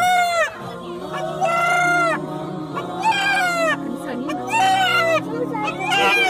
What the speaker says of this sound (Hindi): ये किस तरह एक मुर्गा जो बेजुबान जानवर है वो अल्लाह का जिक्र कर रहा है और अल्लाह अल्लाह पुकार रहा है।